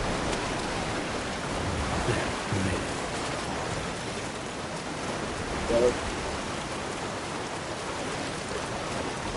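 Rain falls in the video game Death Stranding 2, a steady diffuse hiss of rainfall with faint scattered patter, fairly quiet and unbroken, with no talking over it.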